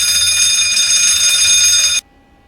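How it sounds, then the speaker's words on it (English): Cockpit fire warning bell on a Douglas Super 6 airliner sounding during a test, a loud, harsh continuous ringing held for two seconds before cutting off abruptly. "this plane has the most obnoxious fire bell ever"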